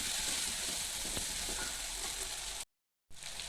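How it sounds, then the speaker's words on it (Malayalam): Chopped tomato sautés in a pan for a yogurt curry, giving a steady, close, loud sizzle. The frying sound breaks off for a short silent gap near the end, then resumes. "തക്കാളി ഒന്ന് വെന്ത് കിട്ടുന്നവരെ ഒന്ന് വഴറ്റി കൊടുക്കുക."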